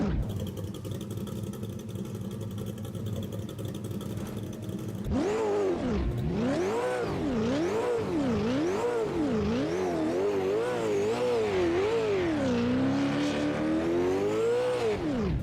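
A race car engine in the sim racing game Automobilista 2 revs hard through repeated rising and falling sweeps, loud and close, after a few seconds of steadier idle hum.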